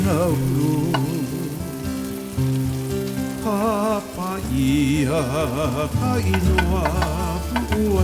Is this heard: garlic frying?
yes